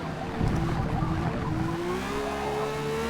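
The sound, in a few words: car engine sound from Forza Motorsport video game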